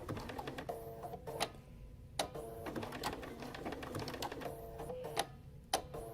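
A sewing machine stitches a quilt block slowly, its quiet mechanical whir broken by brief pauses and sharp clicks as the block is stopped and turned every stitch or two.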